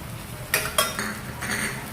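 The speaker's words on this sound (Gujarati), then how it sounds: "અને આ ડુંગળી તળવા દેવાની." Chopped onions fry in a pan at the start of a home-cooked misal pav, with sharp metallic clinks and scraping from a spoon stirring, over a soft steady sizzle.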